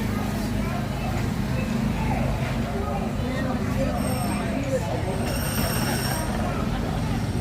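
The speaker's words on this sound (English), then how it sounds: "welcome aboard the Disneyland Railroad" The Disneyland Railroad train runs with a steady low rumble of wheels and carriages rolling along the track, a faint squeal near the end, and people talking over it.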